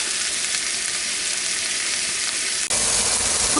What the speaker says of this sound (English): It'll take about 3 minutes or so for each side of this to sear up nice.